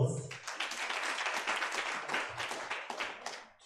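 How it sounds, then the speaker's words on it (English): Audience applause at a media and sustainability summit, dense steady clapping filling the room for several seconds before tapering off near the end. "You may give her a round of applause."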